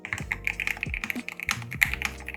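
Typing on a GamaKay mechanical keyboard produces a quick, uneven run of close, soft, rounded keystroke clacks with no voice.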